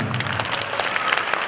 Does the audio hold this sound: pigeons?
no